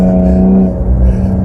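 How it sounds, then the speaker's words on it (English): A 2016 Cadillac ATS-V's exhaust note under acceleration, a loud, steady low engine drone with rising harmonics, close and continuous without talk. "The sound coming from the mufflers is just so intoxicating"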